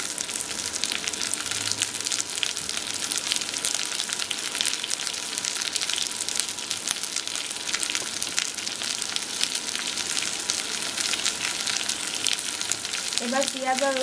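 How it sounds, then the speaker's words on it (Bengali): A big chopped onion and garlic fry in oil with a steady, dense sizzle that holds at an even level throughout, with faint background sounds near the end. "এবার পেঁয়াজ আর রসুনটাকে আমি তেলের মধ্যে ভেজে নিব"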